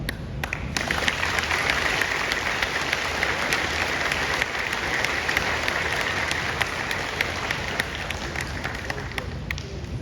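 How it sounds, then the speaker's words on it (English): A crowd gives sustained applause for veterans at an outdoor Veterans Day ceremony, loud continuous clapping with crisp individual claps standing out, lasting about ten seconds without talk. "please share your applause for them"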